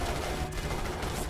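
Infantry gunfire in a Starship Troopers: Terran Command battle, a dense, continuous rattle of overlapping rifle shots, loud and close, with no clear talk over it.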